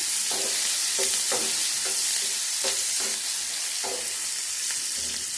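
Raw onion pieces in hot oil being stirred: a loud, continuous close sizzle with repeated scraping strokes of a spatula against the pan in an uneven rhythm, no voices.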